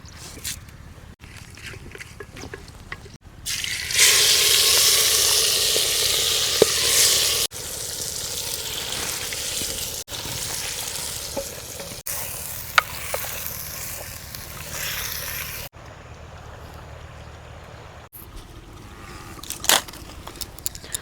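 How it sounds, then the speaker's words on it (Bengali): Cumin, dried chilies and bay leaves sizzle in hot oil for a riverside picnic duck curry, a loud steady frying hiss that swells after the start and continues with occasional crackles and brief breaks. "ফোড়নে দিয়ে দিচ্ছি জিরে শুকনো লঙ্কা তেজপাতা"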